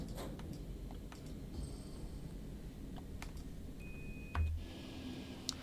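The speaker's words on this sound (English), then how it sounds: "that beep it makes means you're going at 30 kilometers an hour" A short, thin electronic speed beep sounds once in the cab of a train in Train Sim World 3 on the German Linke Rheinstrecke route, faint above a steady low rumble of the moving train.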